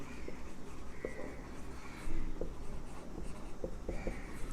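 Marker or chalk writing chemistry notes on a classroom board, steady scratchy strokes with brief taps and pauses, moderately close, no talk.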